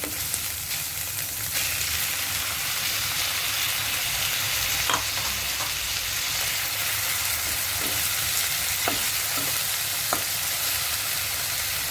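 Tomatoes tipped into a pan of frying onions, garlic and ginger for a spicy ivy gourd curry, giving a steady, close, loud sizzle with a few sharp spatters and stirring clicks throughout.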